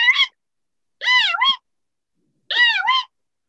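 A human voice imitates the female tawny owl's call, three loud, close, rising-and-falling screechy whoops, each about half a second long, separated by silent gaps.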